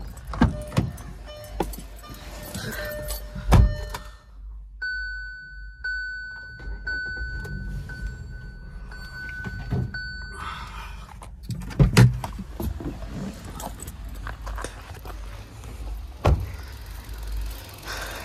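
A 2020 Hyundai Grand i10 Nios with a 1.2 litre Kappa petrol engine is started inside the car: chimes and warning tones, key and switch clicks, then a quiet, smooth idle with occasional thumps of handling.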